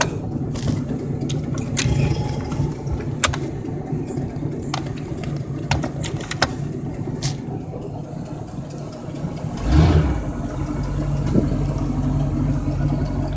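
A 1982 Century boat's engine idles steadily just after startup, a continuous low rumble with faint clicks and handling noises close by and a brief thump midway.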